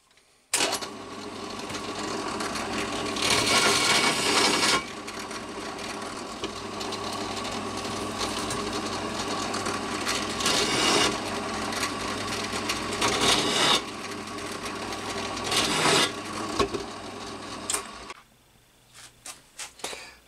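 A countersink bit deburrs the edges of drilled holes, giving a steady close whirring and grinding drone with louder bursts at several points as the bit bites into each hole, and the motor stops near the end.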